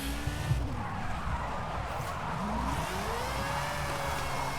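A 2002 Mazda RX-7 Spirit R Type-A drifting in Forza Horizon 5, its tires screeching in a steady, sustained skid over continuous engine roar, loud and close throughout with no talking.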